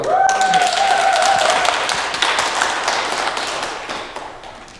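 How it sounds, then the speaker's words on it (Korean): Audience applause at a disaster-safety talk concert in Gumi, a broad, steady wash of clapping that begins at once and slowly fades, with a brief tone and faint voice near the start. "큰 박수와 함께 유재용 사무총장님을 다시 한번 불러보시도록 하겠습니다"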